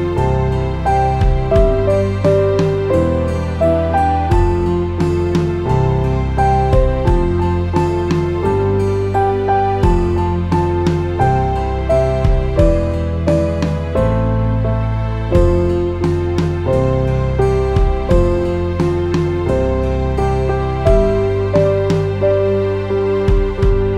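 A piano plays the chorus of a song, its steady chords and melody ringing full and close with sustained bass notes, unaccompanied and without talk.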